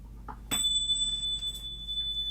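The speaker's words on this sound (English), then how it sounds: "going to bring in some chimes." A meditation chime is struck once and its bright, pure tone rings on steadily, alone in a quiet room with no voices.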